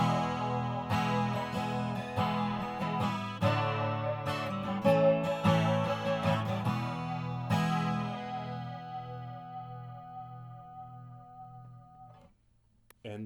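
Plucked chords on an unplugged Lâg Tramontane HyVibe 10 acoustic guitar using its built-in chorus effect, shimmering and wavering, strummed notes ringing out and slowly fading to near silence.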